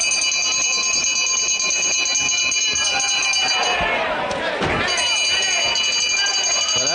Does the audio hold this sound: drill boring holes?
no